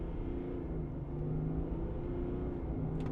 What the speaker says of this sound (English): listen to this turbo inline-6 engine noise